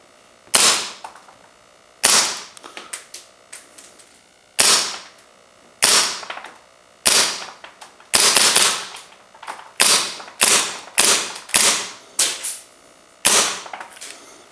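A WE TT airsoft pistol fires about a dozen sharp single shots at irregular intervals, each a loud close crack with a brief metallic ring, ending when the slide locks back.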